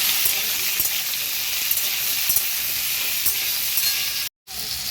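Pumpkin and potato pieces lightly frying in a pan, a bright continuous sizzle with occasional faint stirring ticks, close and alone, cut briefly near the end.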